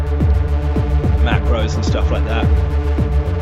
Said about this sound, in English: like sort of the industrial drones for EBM